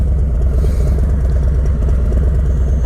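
A 2020 Harley-Davidson Low Rider S motorcycle rumbles loudly up close as it rides off, its V-twin engine giving a deep, rapid, evenly pulsing throb that holds steady throughout, with no talk.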